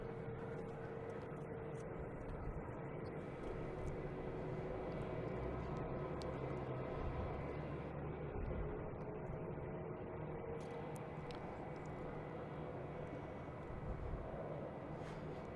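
A JetBlue airliner takes off at Logan at dusk, a faint, distant, steady jet engine rumble spread under the quiet outdoor air throughout.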